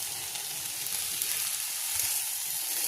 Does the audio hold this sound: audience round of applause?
no